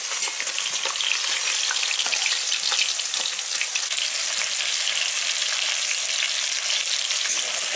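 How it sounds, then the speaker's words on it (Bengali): Potatoes frying in hot oil for a chicken curry, a loud, dense, continuous crackling sizzle close up that holds steady throughout, with no talking. "আর এদিকে আলুটাও ভাজা হচ্ছে, চিকেনের আলু।"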